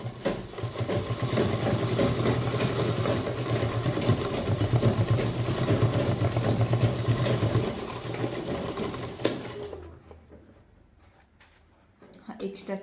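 Sewing machine running steadily as it stitches a rope into the edge of a samosa-style bag, a dense continuous whir for most of the clip, with someone talking over it, then stopping near the end.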